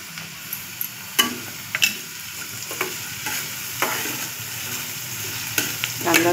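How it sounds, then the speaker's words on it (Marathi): Onions sizzle in hot oil while a spoon stirs and scrapes the pan, tapping at an irregular rhythm over a steady frying hiss, heard close up. "कांदा थोडा चांगला होईपर्यंत जरा लाल करायचा। लालसर होईपर्यंत थोडा तळून घ्यायचं।"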